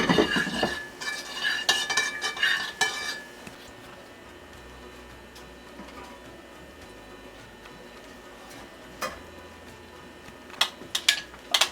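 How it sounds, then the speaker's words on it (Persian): Garlic yogurt spooned onto Afghan mantu dumplings, with sharp metal spoon clinks and scrapes against a dish in bursts at the start and end and quieter handling between. "و حالا باقی مانده ماست در سر منتو مندازم."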